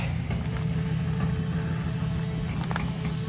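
A car drives away outdoors near a large red cedar on a ledge, its low engine rumble steady and fairly close, with faint knocks and rustles on top and no talking.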